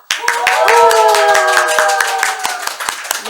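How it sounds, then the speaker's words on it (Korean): An audience at an online seminar claps together, a burst of sharp handclaps that runs on irregularly under a voice speaking over it. "우리 함께 다 같이 박수 한번 쳐볼까요?"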